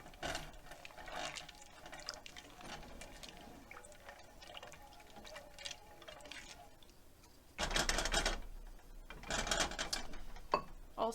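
Milk poured into a mixture for Christmas eggnog, a liquid splashing and filling sound in two bursts near the end, after a stretch of quieter clinks and handling noise.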